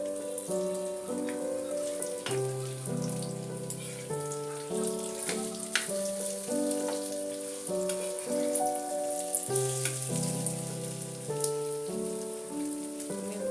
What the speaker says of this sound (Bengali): অল্প আছে আমি সুন্দর করে এপিট ওপিট করে বাদামি কালার করে ভেজে নিব।